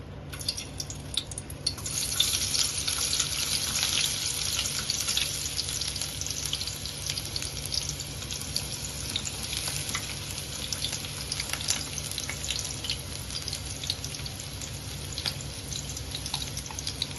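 Oil frying steadily in a pan while cooking a mutton and raw mango curry, a dense continuous hiss and crackle that stays even and close throughout, with no talking.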